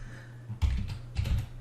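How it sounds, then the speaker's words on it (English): Two quick bursts of typing on a computer keyboard, soft close clicks separated by a brief pause over a faint electrical hum. "So if I type in Mary, now I'm actually typing directly into that."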